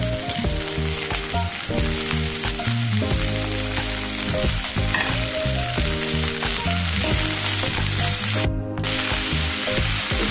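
Madaranga saag greens fry in a pan with garlic and onion, giving a steady, loud, close sizzle throughout. A repetitive rhythmic mechanical or musical pattern runs underneath, and no voices are heard.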